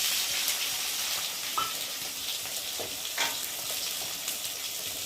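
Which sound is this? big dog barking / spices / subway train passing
spices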